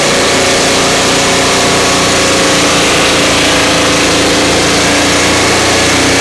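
A Turbosawmill engine runs hard at high revs while cutting sticky, knotty old pine, a loud, steady, unbroken roar close by.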